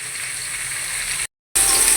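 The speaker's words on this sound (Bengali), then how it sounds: "আর এদিকে চাল কুমড়া ভাজিটা হইতেছে।" Ash gourd fries in a pan for a home-style Bengali cooking session, a steady close hiss of oil sizzling, briefly cut silent before resuming loudly.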